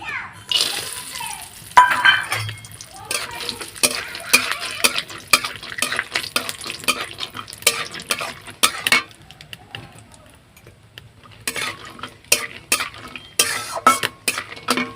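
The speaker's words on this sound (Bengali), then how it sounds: "বাদামগুলো একটু ভেজে নিচ্ছি" Pan frying peanuts with a spoon scraping and stirring in bursts, light sizzling underneath and metal clinks, some voices faintly in the background.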